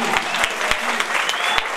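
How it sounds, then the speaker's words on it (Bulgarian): Brisk applause from guests at a christening celebration, dense clapping with a few sharp, louder claps close by, continuing for under two seconds. "Аплодисменти!"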